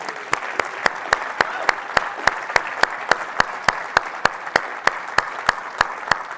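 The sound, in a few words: audience applause at conference talk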